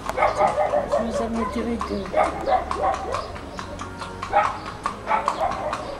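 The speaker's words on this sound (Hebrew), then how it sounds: "אבל יש סוס פה בקריית חיים פתאום" A horse's hooves clip-clop in an uneven patter on a street in Kiryat Haim, with a dog barking and yipping among the steps and voices nearby.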